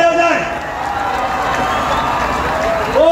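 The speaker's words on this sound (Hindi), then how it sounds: "जोरदार तालियां जाए" Cheering crowd at a Salman Khan Da-Bangg tour stage show, a continuous roar of applause and shouting filling the whole stretch at steady loudness, with a host's voice rising over it at the start and end.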